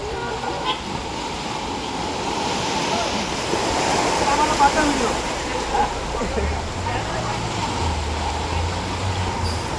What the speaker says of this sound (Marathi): काय पाणी आहे बघा मित्रांनो, हे बघा, हे ब्रिजचे इथे एवढं पाणी आहे